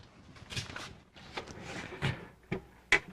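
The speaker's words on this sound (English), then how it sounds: "just grab the drawer underneath, slide it forward" A wooden drawer slides forward in a cabinet converted for Blum Blumotion soft-close runners, heard as several short, close scraping and knocking bursts with a sharp final knock.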